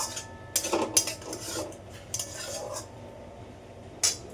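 Metal utensil scraping and clinking against a wok while bottle gourd and snakehead fish head are stirred and broken up, intermittent clatters over a quiet background, with no talking.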